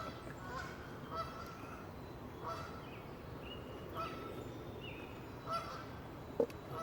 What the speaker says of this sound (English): The dog just attacked the ducks.